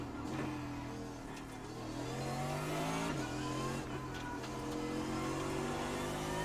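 An orange race car in a racing video game, its engine note revving steadily up and down through gear changes, continuous and fairly loud with faint tire noise.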